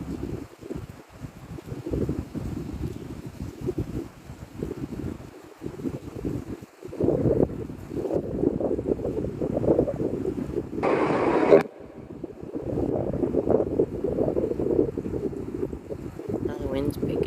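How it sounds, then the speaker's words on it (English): Strong wind buffets the microphone outdoors at a Civil War battlefield park in Murfreesboro, Tennessee, a loud rumbling roar in shifting gusts with short lulls, while voices speak over it at times. "Now the wind's picking up."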